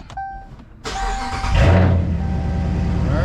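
A Dodge Charger running on a lithium battery cranks briefly after a short chime, then fires and catches, its engine rising into a loud, steady idle close by.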